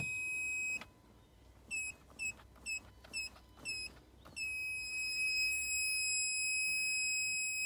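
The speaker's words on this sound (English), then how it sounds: "this will beep if we detect any continuity to ground" A multimeter continuity tester on a Range Rover Evoque parking sensor circuit gives several short, sharp electronic beeps in a row, then one long steady tone when it finds a short to ground, heard close and alone.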